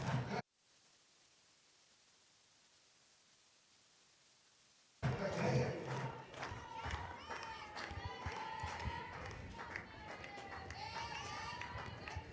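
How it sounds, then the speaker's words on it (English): Softball fans at a Mississippi State vs New Mexico game cheer and shout as a steady crowd roar with chanting voices, after a few seconds of near silence. "Fans here cheering"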